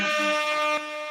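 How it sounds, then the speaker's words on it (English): A blaring air horn sound effect with strong steady harmonic tones, loud and sustained for about a second before dropping slightly in level. "Air horns."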